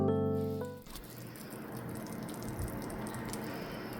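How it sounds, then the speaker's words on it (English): A soft, steady sizzling and crackling patter of sugar bubbling in a hot baking pan fills the clip after a brief tonal hum at the start, fairly quiet and close. "listen to how the sugar is bubbling away"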